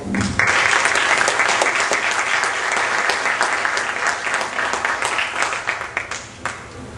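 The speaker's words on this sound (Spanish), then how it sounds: "Un fuerte aplauso." Loud, sustained applause from a seminar audience, steady clapping that gradually thins out toward the end.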